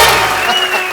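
Loud studio audience applause for Sunny and Bobby Deol on a Hindi comedy talk show, a thick wash of clapping with faint cheering, slowly easing off.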